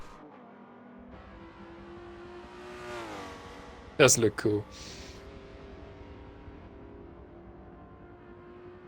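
Aston Martin V12 race car in a sport touring series at VIR, heard distantly, its engine note rising in pitch as it passes and then fading, under people talking and a brief loud clatter.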